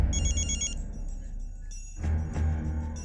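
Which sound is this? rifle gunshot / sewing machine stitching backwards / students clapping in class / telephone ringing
telephone ringing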